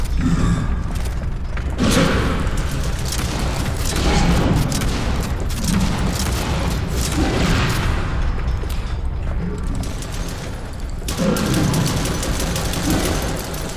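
Dense gunfire bursts with heavy thuds and booms fill a horror video game set in a haunted hospital, with steady loud shooting throughout and brief mechanical clatter, no talk.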